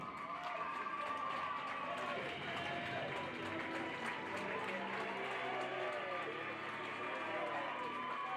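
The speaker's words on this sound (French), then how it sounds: "vous pouvez les applaudir bien fort" A crowd applauding steadily throughout a dressage prize-giving ceremony, with a dense wash of clapping and cheering mixed with an amplified announcer's voice and general crowd noise.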